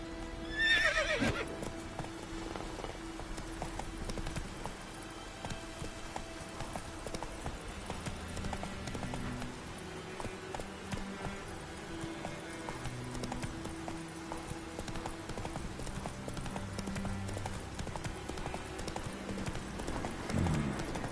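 A horse in The Witcher 3 gallops with quick, rhythmic hoofbeats that run steadily throughout, opening with a brief whinny, set against in-game ambient sound.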